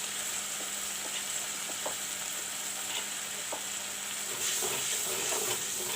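Turmeric and chili powder masala fries in a hot pan with a continuous close sizzle and hiss, with faint clicks of stirring that swell slightly toward the end.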